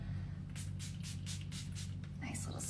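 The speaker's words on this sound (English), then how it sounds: "I'm gonna set everything with the Olive Rose setting spray" Several quick hissing bursts of makeup setting spray sprayed onto a face in a row, close up, each short and airy, over a low steady background hum.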